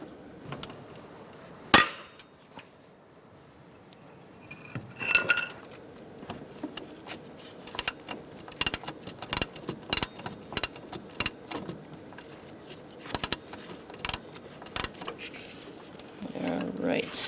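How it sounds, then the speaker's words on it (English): A T50 Torx bit loosens the belt tensioner pulley bolt on a 2000-2007 Ford Taurus 3.0L V6. Sharp metallic clicks and clanks come in an uneven series, close by, with a person talking at times. "I'm going to use a T50 Torx bit, and we are going to loosen our tensioner pulley bolt."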